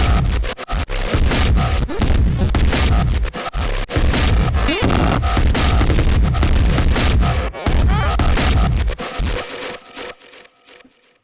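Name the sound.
stomp bass synth sound design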